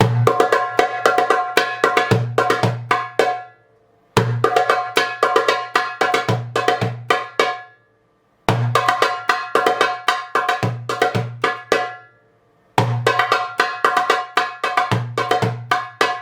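A darbuka plays the Shiftateli rhythm steadily, repeating deep dooms and sharp teks, four phrases with brief silences between them, close and clear.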